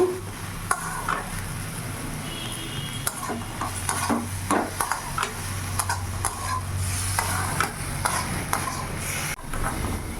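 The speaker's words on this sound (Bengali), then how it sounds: "একটু ভালো করে নাড়াচাড়া করে নেব।" Onion stalks with poppy seeds are stirred in a pan over a raised flame. A steady sizzle runs throughout, broken by scattered scrapes and sharp spoon taps against the pan, with no voices.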